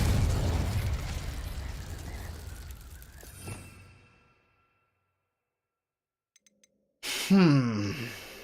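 A Confringo blasting spell from the Hogwarts Legacy video game bursts with a deep rumbling boom that fades over about four seconds into silence before a short new game sound starts.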